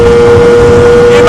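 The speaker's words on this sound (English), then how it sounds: "Lambretta that makes a noise like this, is howling along" A Lambretta Targa Twin 275cc piston-ported scooter engine howls loudly and steadily on an open road, a sustained high-pitched drone mixed with strong rushing wind.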